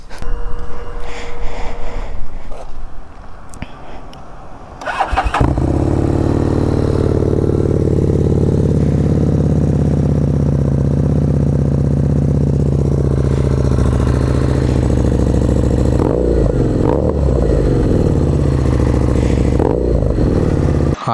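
A Harley-Davidson Street Rod 750 motorcycle engine starts after about five seconds of quieter idle-like noise, then settles into a loud, steady, throbbing run with brief revs near 16 and 19 seconds.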